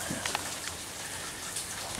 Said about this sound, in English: even though the rain is mild, after a while it builds up